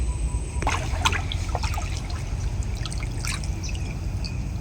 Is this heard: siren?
no